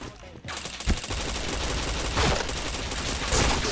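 Rapid gunfire in a video game, a dense continuous fusillade of shots with louder bursts standing out near the start, middle and end, loud and close throughout.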